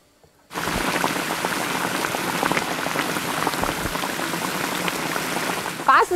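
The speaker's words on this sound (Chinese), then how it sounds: "最后盖上锅盖，等它焖哈，焖煮软软" Mao-style braised pork simmers under a lid in a pot, giving a steady dense bubbling like rain on a surface, close and even throughout with a brief clink near the end.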